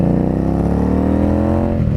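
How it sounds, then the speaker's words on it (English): A Victory Octane motorcycle fitted with factory drag bars runs its engine loud and close, a steady throaty drone that rises slightly in pitch as it revs, with no talking. "Riding the Victory Octane with, for the first time with these drag bars, Victory factory drag bars."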